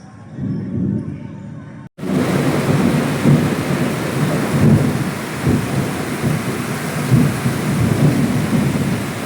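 Heavy rain pours steadily with deep rolling thunder rumbling throughout, a loud, dense storm after a brief quieter moment at the start.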